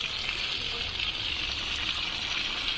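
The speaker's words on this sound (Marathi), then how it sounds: "त्या झाडांना असं पाणी द्यावं लागतं" Tap water splashes steadily onto potted plants in grow bags in a home garden, a continuous close hiss of pouring water with no pause and no voices.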